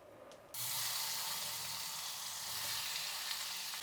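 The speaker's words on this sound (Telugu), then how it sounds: "ఇంకొద్దిగా నూనె వేసి టమాటాలు బాగా మగ్గించుకుందాం." Tomatoes hit hot oil in a pan with a sudden burst of loud, hissing sizzle that then holds steady and close, with a faint clink at the very end and no voices.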